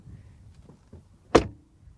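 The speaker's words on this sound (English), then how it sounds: "but the door shut sound is just as solid and resounding." The door of a Mercedes A-Class AMG Line 250 hatchback swings shut with a single solid, resounding thud after a few faint rustles and clicks, close and alone.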